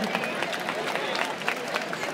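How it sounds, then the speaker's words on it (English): An audience at a wine and jazz event claps steadily in a dense patter of applause, with crowd murmur and a voice mixed in. "Let's give him a big round of applause."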